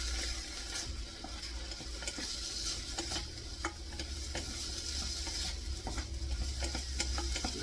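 Spicy garlic mixture with Scotch bonnet pepper for pumpkin soup sizzling steadily in a pot while being stirred, with a continuous frying hiss and occasional scraping clicks.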